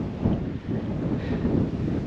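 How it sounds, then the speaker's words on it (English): Wind sweeps across open heathland at Holt Heath near the New Forest, buffeting the microphone in a continuous low rumble with gusty swells and no voices. "It's a bit windy now."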